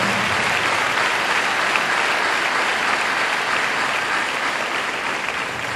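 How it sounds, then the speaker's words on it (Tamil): A church congregation claps steadily for pastors at a tabernacle dedication in Kattathurai, a dense, even wash of applause that holds at full strength throughout. "இவர்களுக்கெல்லாம் கைதட்டுங்க."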